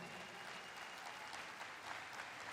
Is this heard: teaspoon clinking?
no